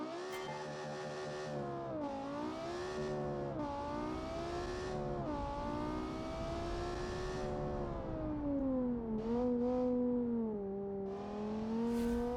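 A race car engine in a Le Mans racing video game revs and shifts continuously, its loud whining pitch climbing and dropping through gear changes with no talking over it.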